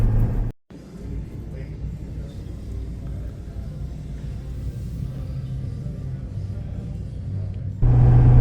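A Ford F-250 pickup with the 6.7 engine drives down the road, a steady low rumble of engine and road noise heard from inside the cab, with a brief dropout early and a louder surge near the end.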